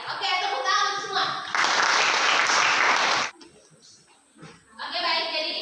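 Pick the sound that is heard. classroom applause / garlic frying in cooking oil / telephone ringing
classroom applause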